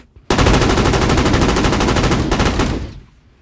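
Layered game-audio gunfire built in REAPER, a loud close burst of rapid automatic shots roughly two and a half seconds long, full and dense, ending in a short decaying tail.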